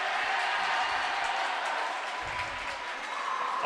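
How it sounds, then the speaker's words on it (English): Broad, steady applause from a crowd of high school varsity hockey fans in an ice rink, filling the whole stretch at an even level with no talk over it. "Applause raining from above as the technical issues are resolved"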